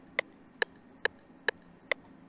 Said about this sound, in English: You can just go and find this metronome sounding perk.